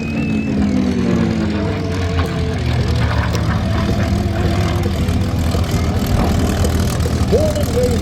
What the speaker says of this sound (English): the controls of the wonderfully restored North American P-51 Mustang she calls plumb crazy